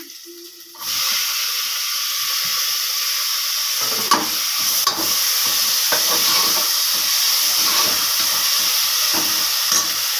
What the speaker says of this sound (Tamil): இப்போ இந்த தக்காளி பழத்தை போடுறேன்.